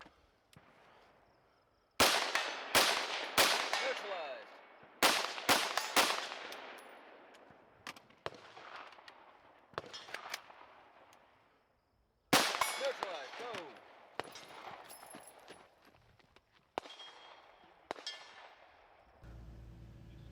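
Firearms shot at an outdoor woodland competition shooting stage, American Standard Division: loud, sharp reports in quick strings with pauses between, each ringing with echo, and faint quieter handling sounds in the gaps.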